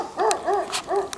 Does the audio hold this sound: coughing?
no